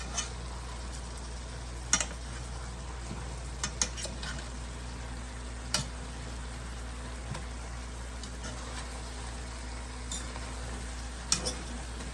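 Jamaican curry chicken simmers and sizzles in an open pot, giving a steady soft frying hiss with a few faint clinks of utensils scattered throughout.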